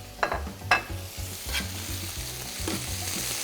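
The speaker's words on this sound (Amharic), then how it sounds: "ከዛ በኋላ እንግዲህ ቲማቲም እንጨምራለን።" Peeled, chopped tomatoes fry in a pan, giving a steady soft sizzle broken by a few sharp stirring clatters near the start; close and moderately quiet, with no talking.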